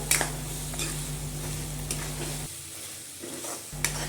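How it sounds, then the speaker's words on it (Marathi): Toor dal is stirred into sizzling onion masala in a pan, the spoon scraping and swishing in repeated strokes over a soft, steady frying sizzle at close range with no talking. "आता ह्यामध्ये तुरीची डाळ टाकून चांगलं मिक्स करून घेऊयात"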